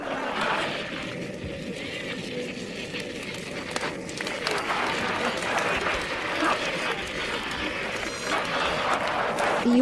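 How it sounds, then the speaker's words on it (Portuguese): Sustained crowd applause at a TED-style stage talk on orgasm, a steady wash of many hands clapping with some voices mixed in, lasting about ten seconds. "Aplausos."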